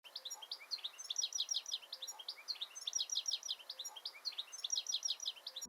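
A rapid stream of high, harsh bird chirps repeats in a busy, steady pattern, fairly faint and alone, with no low background sound.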